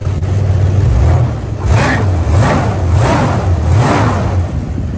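A 1973 Dodge Challenger muscle car revs its engine through the exhaust, with about four rising and falling revs after a steady idle, loud and close.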